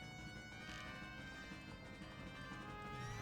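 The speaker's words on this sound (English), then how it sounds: "you can actually listen to hear the gallop of the horse" Rhythmic hoofbeats of a horse galloping in The Legend of Zelda: Ocarina of Time, a steady clip-clop under a continuous layer of game music, with no talking.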